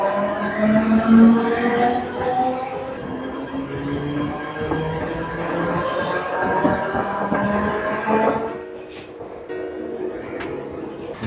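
A train passing through a station near Goregaon, a steady loud rumble of wheels and rail noise with tonal squeal bands throughout, easing slightly near the end.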